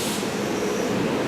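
A train rumbles into a station, a steady low mechanical drone with a faint high hiss, heard continuously and fairly close with no talk over it.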